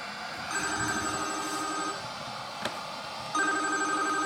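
A telephone rings in repeated bursts, a bright electronic trill sounding twice with a gap between, fairly faint against a quiet background.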